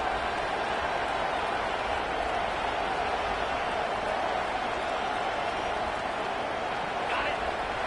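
A home crowd roars steadily through a football game between LSU and Texas as the defense faces third down, a dense and sustained wall of cheering.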